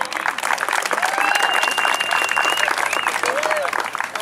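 A crowd at a high school soccer senior day claps and cheers for a player introduction, dense continuous applause with whistles and shouts layered over it throughout.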